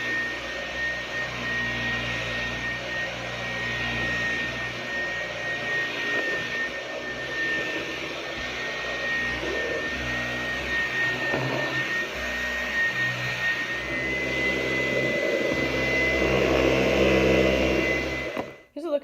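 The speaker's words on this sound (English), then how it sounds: "now I will change it to max suction on the top of the stick vacuum cleaner as well as on the turbine power head" A Dyson V10 Cyclone Absolute stick vacuum with its torque drive motorized head runs at max suction, a steady loud whining roar with a high tonal whistle throughout, ending abruptly near the close.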